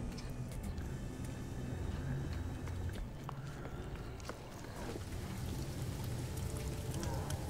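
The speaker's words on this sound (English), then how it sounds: "How are you guys enjoying this toxic rain?" Toxic rain falls steadily in No Man's Sky, a dense, continuous hiss and patter with low rumble running evenly throughout, with no voices over it.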